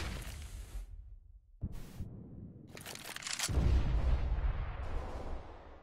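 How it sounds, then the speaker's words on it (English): Gunfire and explosive blasts from a CS:GO match at the A site, in bursts with sharp gaps between them, ending in a loud, sustained rumble, with no talking over it. "now it's a bit of gunfire there in that A site"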